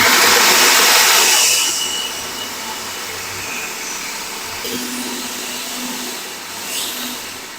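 An electric chopper whirs loudly at full speed as it chops vegetables and spices for kofta, a steady buzzing roar for about two seconds that then drops to a lower, rougher running whir until the end.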